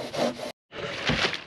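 Hand saw working through wood for a cabin wall build, a steady rasping stroke that stops briefly before resuming for the other side, close and fairly loud.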